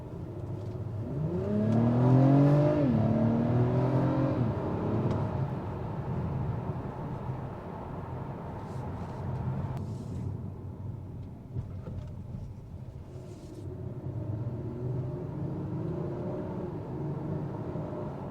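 A 2021 Acura TLX Type-S with a turbocharged V6 pulls hard from low revs, a rising engine note that swells loud early then settles into a steady road rumble and whir.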